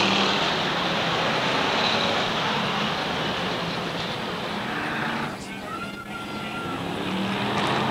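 Strictly Stock race cars at Waterford Speedbowl hold a steady, dense engine roar as drivers get on the throttle, with a brief dip in the noise before it swells again. A race announcer's commentary runs over the roar.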